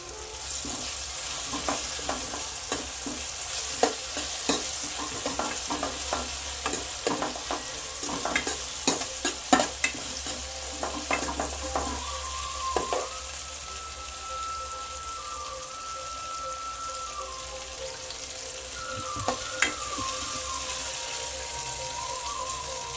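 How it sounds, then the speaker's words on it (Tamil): Curry leaves fry with onion and tomato in a pan for tomato thokku, a steady close sizzle broken by sporadic spoon scrapes and stirring, with a faint tonal hum later on. "இப்போ கருவேப்பிலை போட்டுக்கலாம்"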